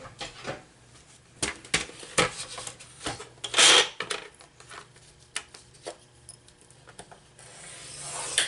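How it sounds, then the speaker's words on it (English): A tool scores a paper hinge for a journal, giving soft scraping and rubbing strokes in short irregular bursts, close and fairly quiet, with one louder rasp midway. "And I'm going to score it again."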